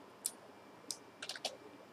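A few scattered keystrokes on a computer keyboard as a command is typed into Rhino 6 3D modeling software: faint, close clicks, a single tap, then another, then a quick cluster of three, with a quiet room behind them.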